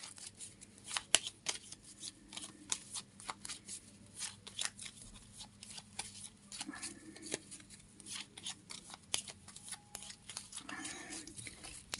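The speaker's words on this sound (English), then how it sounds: "I'm going to shuffle the first deck for your yes." A deck of cards being shuffled by hand: faint, close, rapid crackling riffles and soft card slaps repeat steadily in a quiet room.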